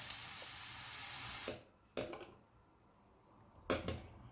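Thinly sliced onion fries in a pan with a steady, bright sizzle for the first stretch, then the sizzle drops to a quieter hiss broken by two brief clattering bursts, likely a utensil moving the onions.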